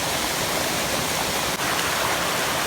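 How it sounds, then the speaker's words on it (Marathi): A main forest waterfall in the Konkan near Chiveli, Chiplun, roughly fifteen to twenty feet high, roars as a steady, dense wash of falling water, close and continuous with no voices. "हा बघा इथे हा मुख्य धबधबा अंदाजे पंधरा ते वीस फूट उंच असेल"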